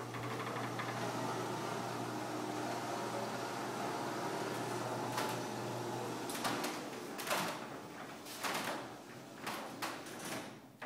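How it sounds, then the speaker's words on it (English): A LiftMaster 3840 3/4 horsepower screwdrive garage door opener with a two-speed motor runs in a steady low hum and whir, then slows and stops with a few clunks and rattles, heard close up. "It's got a two-speed motor, so when it starts and stops, it slows down."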